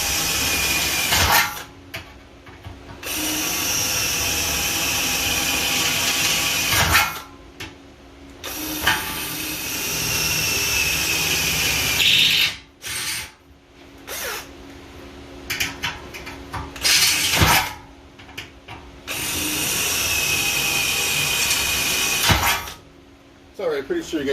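A power drill whines and grinds through sheet metal on a 1969 Mustang fastback in several long runs, separated by short pauses, loud and close.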